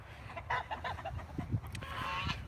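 Free-ranging hens and roosters on a small farm cluck and squawk in short, irregular bursts, some close and some farther off, fairly faint against a low background hum.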